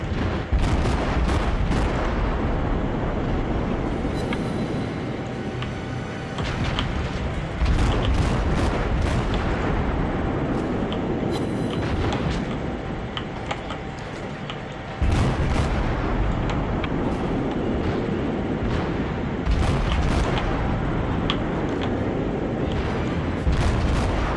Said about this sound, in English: But these guns do fire fast and they do fire far.